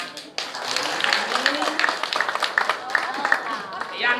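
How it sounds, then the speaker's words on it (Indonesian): Audience clapping at a Balinese drama gong performance, a steady patter of applause that runs under a talking voice for the whole stretch. "Tepuk tangan."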